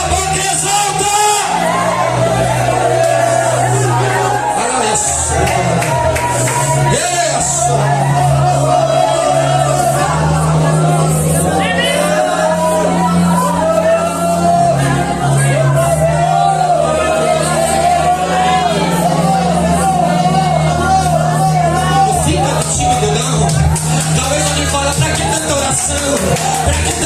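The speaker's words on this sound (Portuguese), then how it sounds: "Pra que tanta gritaria?" A church congregation shouts, whoops and cheers loudly and continuously in worship, a dense roar of many voices with a preacher calling out over the crowd throughout.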